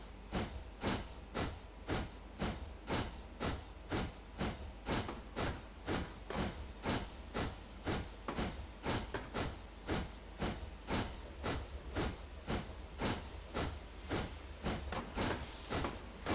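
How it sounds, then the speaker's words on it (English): A narrow gauge steam train with coaches coasting downhill, wheels clicking in a steady rhythmic beat over rail joints beneath a soft hiss, moderately faint throughout. "All we need to do is get the coaches over, and then we can turn into a gravity train for a minute."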